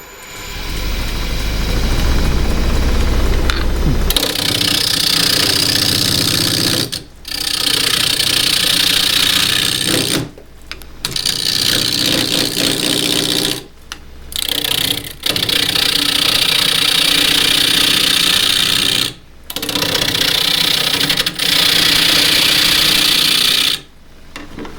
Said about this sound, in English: I normally rough down on the outside with a 1/2 inch spindle gouge